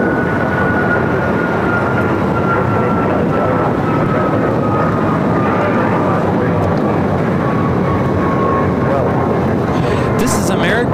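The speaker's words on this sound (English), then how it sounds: "This is Alaska Airlines 1412 taking off to Liberia on the MAX 9." An Alaska Airlines Boeing 737 MAX 9 taking off from Los Angeles for Liberia produces a continuous heavy jet rumble with a slowly falling whine, sustained and loud from start to finish, ending with a brief crackle of noise.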